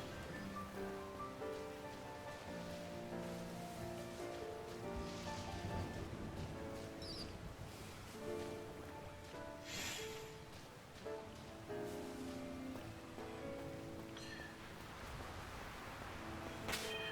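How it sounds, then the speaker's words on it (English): Rain in the video game Pokemon Violet, a soft, steady patter of raindrops on surfaces under a layer of game music, quiet and continuous. "Huge thunderstorm came in and ruined my picnic."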